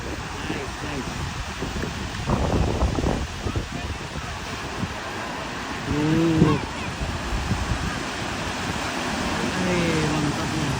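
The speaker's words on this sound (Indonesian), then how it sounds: "Good wave. Very good wave. Nice wave." Ocean surf breaking at Bondi Beach in Sydney, a steady wash of waves with wind buffeting the microphone, while people talk over it in several bursts.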